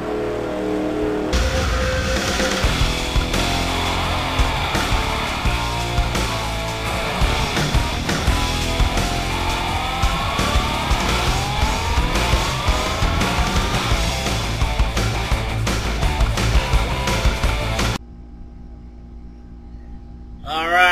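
Race trucks at Phoenix International Raceway in the Lucas Oil 150 roar past in a continuous, loud engine drone with shifting revs and crowd-like wash, cutting to near quiet at the end.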